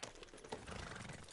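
Hooves of a ridden horse clip-clopping in a quick, uneven run of soft, faint hits over a short stretch, with no voices.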